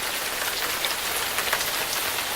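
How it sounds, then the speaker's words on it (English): Steady rain falls for hours on a backpacking campsite, a dense, even hiss of drops on surfaces and a tarp, close and constant with no break. "The rain came down for several hours, so we huddled under a tarp"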